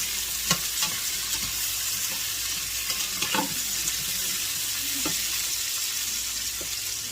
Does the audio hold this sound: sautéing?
yes